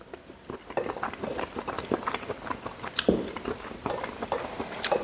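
Someone eating peas with gravy at a pub, with close, moist chewing and soft biting sounds in an uneven rhythm and a few clinks of cutlery.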